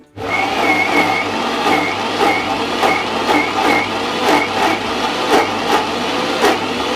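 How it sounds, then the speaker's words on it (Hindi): A kitchen mixer grinder churns cream into homemade butter with a loud, continuous whirring drone, the lid on, marked by regular rhythmic thumps and knocks as the contents slosh around the jar. "मैं इसे ढक्कन लगाकर फिर से एक बार ग्राइंड करूंगी।"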